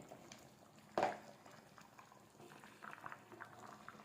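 Paneer masala gravy bubbling and simmering steadily in a pan, with a sharp clatter near the start and soft popping throughout.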